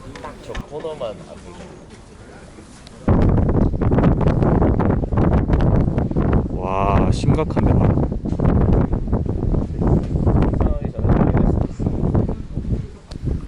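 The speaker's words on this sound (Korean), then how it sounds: "채비를 회수할 수가 없을 정도로 강한 바람이 불어오기 시작을 하고요" Strong wind blowing at a freshwater fishing spot, a low rushing roar and microphone buffeting that turn loud after a few seconds, with someone talking throughout.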